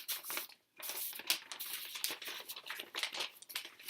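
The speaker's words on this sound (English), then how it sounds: "Sorry for the paper noises." A paper knitting pattern sheet for socks is handled close up, giving bursts of crinkling and rustling with one brief pause early on.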